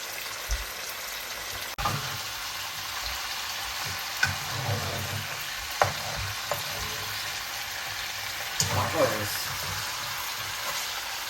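Meat fries in a pot on an electric stove for a festive Eid meal. A continuous sizzle is broken by repeated thumps and scrapes of stirring at irregular intervals.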